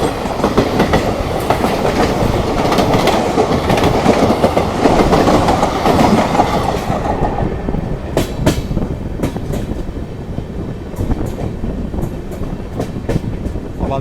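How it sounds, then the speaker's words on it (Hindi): A passenger train hauled by EMD locomotives passes on the Budni Ghat section, a loud steady rumble of wagons with rhythmic clickety-clack wheel beats that thin out into sparser, sharper clacks as the last cars go by. "EMD लोगों के साथ एक पैसेंजर ट्रेन है।"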